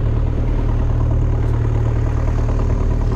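A fishing boat's engine runs out at sea on a windy day, a loud, steady low rumble that drones on without a break.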